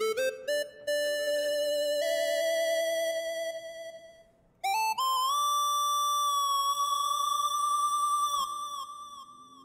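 A bright chiptune lead synth patch built in Helm, with reverb, plays a short run of clean, buzzy square-ish notes that hold, step up in pitch, pause briefly and trail off into a fading tail.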